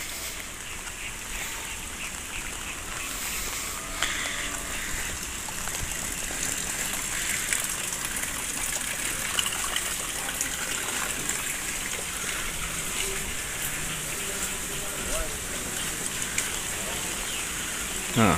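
Heavy afternoon rain pours down on a rural village, a dense, steady hiss of water on roofs and ground that continues unbroken and fairly loud throughout.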